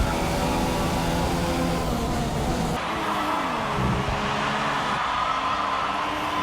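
A Formula 1 car engine in the F1 2015 racing game, Australia round of a Jenson Button career mode, roars at high revs without a break. Its pitch shifts through gear changes, with brief tyre noise and a faint voice underneath.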